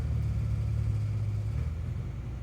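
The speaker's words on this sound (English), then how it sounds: "Somebody's got a loud car." A loud car passes outside, its engine heard as a deep, steady rumble that fades slightly toward the end, with no one talking over it.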